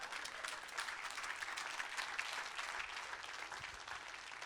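Steady applause from a church congregation at a sermon, dense and continuous throughout at moderate distance, with no voices standing out.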